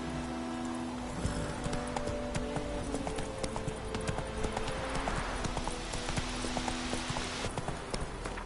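A horse trotting in the video game The Witcher 3, its hooves beating a steady, even clip-clop rhythm close by for several seconds over a constant background bed, with no speech.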